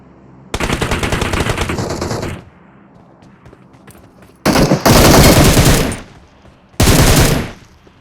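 Machine-gun fire in a shooter video game: three long automatic bursts, loud and close, separated by quieter gaps.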